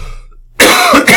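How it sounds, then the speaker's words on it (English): A single sharp cough that merges into a rough throat clearing, loud and close, during a nutrition lecture, with no talk over it. "Pardon my cough."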